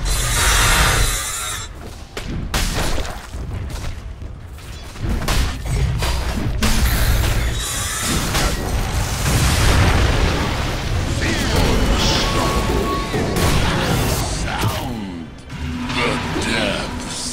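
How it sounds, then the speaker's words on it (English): Dota 2 tower under attack in a video game, a dense run of crashing hits, booms and shattering bursts with an announcer voice over the action. "Dire's bottom tower is under attack."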